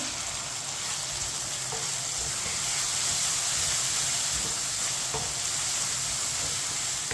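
Chopped tomatoes and green chillies fry and get stirred in a pan, giving a loud, steady sizzle with soft scraping and occasional light clicks from the stirring, with no one speaking.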